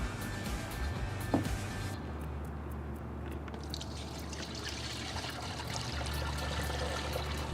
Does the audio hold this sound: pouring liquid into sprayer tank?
yes